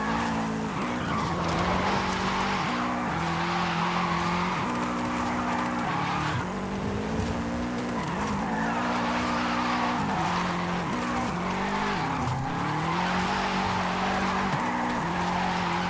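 A 1996 Subaru SVX in Forza Horizon 5 drives and drifts, its engine holding a steady, loud drone with wavering pitch as tires squeal in long, continuous slides, close up and without talk.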